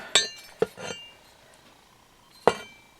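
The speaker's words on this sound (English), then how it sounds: "I'm going to try to hammer it back in shape." A bent metal part from a 1970 Honda Z50 is hammered back into shape with three sharp, ringing metallic strikes, spaced irregularly with a quiet gap between them and no voices.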